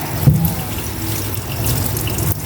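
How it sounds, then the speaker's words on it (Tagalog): Calamansi rinsed under a running kitchen tap, with steady water splashing into a sink and a brief louder gush near the start, close and continuous throughout. "Hugasan ko rin itong kalamansi."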